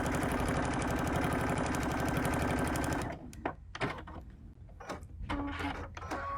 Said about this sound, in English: So I'll go ahead and just do a few stitches to hold it in place.